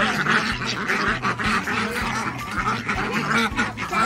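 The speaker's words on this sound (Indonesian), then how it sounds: "Bebek jenis berjambu." A crested duck quacks in a rapid, regular series of short nasal calls, close and clear, with faint background noise.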